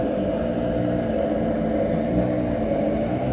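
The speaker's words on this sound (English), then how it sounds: "Really sounds nice and quiet compared to the 2-stroke motor" A jet ski with a four-stroke motor runs at a steady, smooth idle, a low continuous engine drone that stays constant and fairly quiet, with water and wind noise around it.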